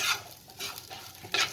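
Soft, close stirring and squishing sounds come in short bursts as spices are mixed into okra (lady finger) by hand, quiet and intermittent with no talking.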